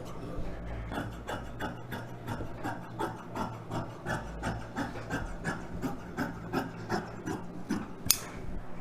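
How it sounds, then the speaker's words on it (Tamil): Scissors cut through lining fabric for a chudidhar collar, making a steady run of close, rhythmic rasping snips with no talk, ending in one sharper snip. "இப்போ வந்து நம்ம கட் பண்ணிக்கலாம்."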